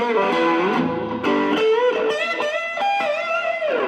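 Electric guitar played through the thick channel of a Vox Lil' Night Train amp with pedal reverb, a gritty, distorted tone of sustained chords and bending melodic lines, loud and continuous without pause.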